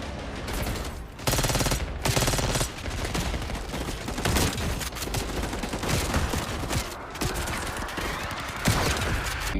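Dense, continuous gunfire in the video game Call of Duty Black Ops 6, with rapid automatic bursts and overlapping shots layered over rumbling game action. It stays loud and busy throughout.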